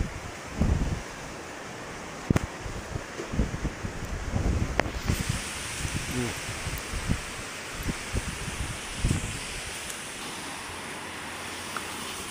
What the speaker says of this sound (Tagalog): Kaya lumalakas ng hangin